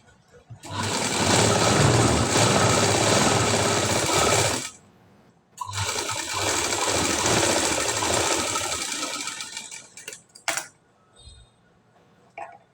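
A sewing machine stitches a high-neck blouse lining in two long, loud, steady runs separated by a short pause, then a few brief clicks and thumps.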